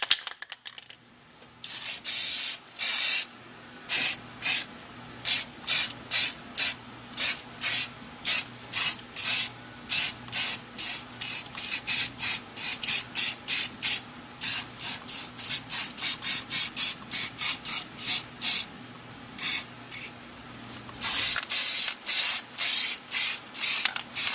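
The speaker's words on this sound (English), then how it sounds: "I'm just going to go and hit that with flat black to cover that." Flat black spray paint is sprayed over overspray on dirt in a pheasant taxidermy habitat build, heard as many short, loud hissing bursts in quick rhythmic succession, close up, with brief pauses between runs.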